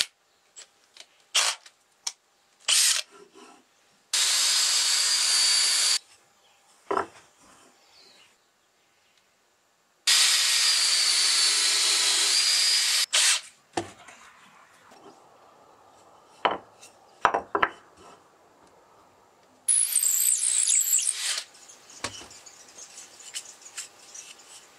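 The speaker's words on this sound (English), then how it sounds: "I'm going to finish the outer part now, and therefore I'm using a detail sander." A detail sander fitted with 60 grit sandpaper works a wooden climbing hold, its buzzing whine running in two sustained bursts of a couple of seconds each, with scattered clicks and handling knocks between them.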